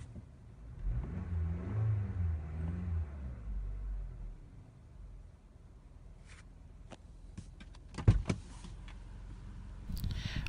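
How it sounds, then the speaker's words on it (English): A 2017 Toyota Camry engine idles with a steady low rumble, and a few sharp clicks and knocks sound close by toward the end. "The engine continues to work."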